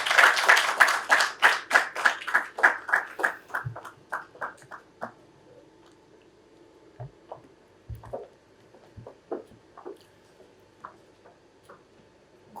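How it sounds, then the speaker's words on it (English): Audience at the WEF-ILO prospects launch at Westwood Hotel, Kenya, clapping in a rhythmic, fairly loud burst for the chair that thins within a few seconds into scattered, sparse claps with no speech. "We clap for her until she reaches here."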